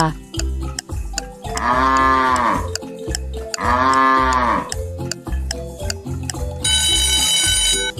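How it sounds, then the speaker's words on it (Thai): A cow moos twice, each a long drawn-out low call, between repeated clock-like ticks, with a ringing bell tone at the end, loud and close. "เฉลยเสียงของวัวค่ะ"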